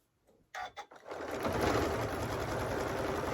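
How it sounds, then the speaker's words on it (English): A sewing machine runs steadily up close while stitching a lined drawstring mini backpack, starting with a few short bursts and then settling into a continuous whirring hum. "I am actually going to sew"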